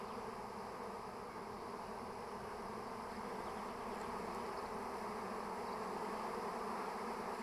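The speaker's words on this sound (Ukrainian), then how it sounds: "Ось так бджілки збираються, вони сідають." A honeybee swarm settling on an apple tree, giving a dense, continuous buzzing hum that holds steady and moderately close for the whole stretch, with no talking.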